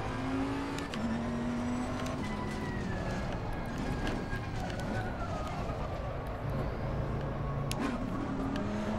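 A Bentley GT3 race car engine in the racing game Assetto Corsa Competizione drones steadily, with the revs rising and falling through gear changes over several seconds under a faint background bed.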